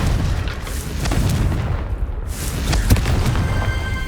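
A Confringo fire-blast spell explodes in the video game Hogwarts Legacy: a deep boom with rumbling debris and a sharp crack near the end, loud and continuous, with no voices.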